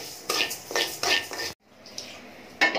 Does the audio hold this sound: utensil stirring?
yes